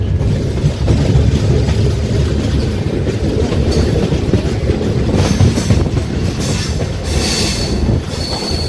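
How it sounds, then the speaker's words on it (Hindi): The Jhelum Express pulls out of a station, wheels squealing on the rails over a dense, rolling rumble and rhythmic clatter of carriages, loud and continuous from start to finish. "बाकी 2 मिनट के होल्ड के बाद यहाँ से ट्रेन निकल चुकी है"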